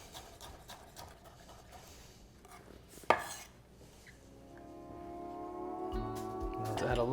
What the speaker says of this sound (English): So I like to just cube up some pickles.